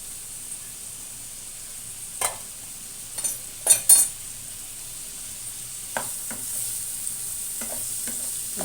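Onions, green chillies and curry leaves fry in a pan for chicken curry, giving a steady soft sizzle with several distinct spatula scrapes and clinks. No one speaks.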